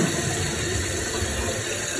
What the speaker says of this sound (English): So let's give it a half flush here